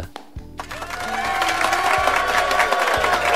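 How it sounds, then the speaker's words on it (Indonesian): A crowd applauds and cheers for Pak Pur at a company pre-launch event for an employee information system, building from a quiet start into a loud, sustained roar over ringing musical tones. "Tepuk tangan dulu untuk Pak Pur."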